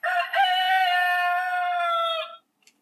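Rooster crowing tune from a TeckNet wireless doorbell, a single loud electronic cock-a-doodle-doo lasting about two seconds, close and clear, followed by silence.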